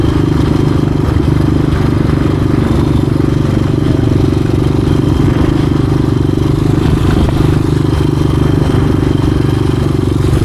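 A 1986 Honda XR200R motorcycle runs loud and close through all six gears, a steady droning engine with a dense low rumble and some mechanical clatter, no voices.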